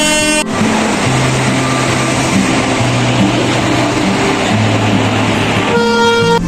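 Onboard a moving train, a loud continuous rumble of wheels and carriage noise plays under sustained tonal horn-like hums. A brief toot marks the start and end.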